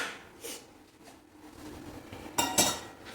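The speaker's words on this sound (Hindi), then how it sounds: "अब एक बार हम इसको अच्छे से मिक्स कर लेते हैं" A spoon mixes a roasted chickpea and soybean laddu mixture in a bowl, giving soft scraping and a couple of sharper clinks near the end, faint and close with no talk.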